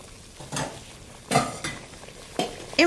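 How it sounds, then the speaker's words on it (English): Pasta goes into a large saucepan of boiling salted water, giving several short splashing, rattling bursts with brief clinks of utensils against the pan, close and clear with quiet gaps in between. "In with the pasta."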